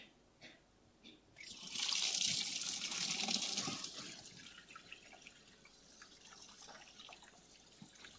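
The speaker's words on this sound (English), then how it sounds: "I start to let some water go out." Water let out in a flowing-water demonstration during a lecture on urban water, rising into a steady rushing, splashing flow after a few quiet seconds, then settling to a softer trickle with dripping.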